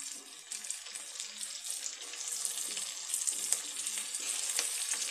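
Tomatoes frying with ginger garlic paste in a pan for a country chicken biryani, with a steady, close bright sizzle and occasional stirring scrapes throughout, no talking.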